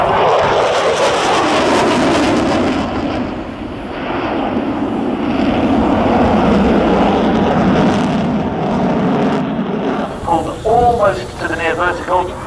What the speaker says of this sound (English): Typhoon Force in Operation